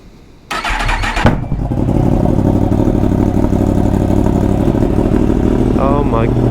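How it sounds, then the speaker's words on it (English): A Yamaha MT10 fitted with an Akrapovic exhaust cranks and fires up abruptly, then settles into a loud, rough, throbbing idle close by, with a voice speaking briefly near the end. "so we will get this started up and be on our way."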